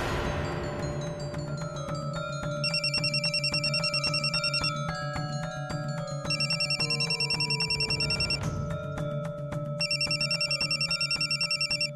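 A mobile phone rings with a bright, repeating electronic ringtone in loud bursts over a steady melodic backing.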